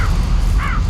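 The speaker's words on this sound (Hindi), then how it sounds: "जैसे ही फेंका उस पे चील कौवे टूट पड़े।" Kites and crows caw over a low rumbling background as they swoop down on a thrown item, with a harsh call at the start and another clear caw near the end of the second.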